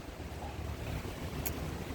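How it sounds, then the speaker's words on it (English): Steady wind blows outdoors across a garden, with a constant rushing roar and low buffeting against the microphone and no other clear sounds. "Gosh, it's windy out here."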